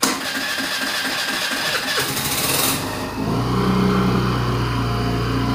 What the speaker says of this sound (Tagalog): Throttle pa natin, no? Throttle pa bago mag-start.